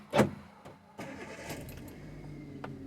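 A used car's engine cranks briefly and catches, settling into a steady low idle, heard fairly close with no talk over it.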